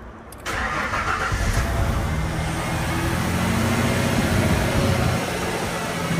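A car engine cranks and catches at the start, then settles into a steady, fairly quiet idle that runs without a break.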